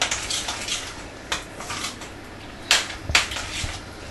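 A spoon works through a sauce in a pan on the heat, giving a few sharp scraping clinks and knocks against the metal over a soft sizzling background, with no talking.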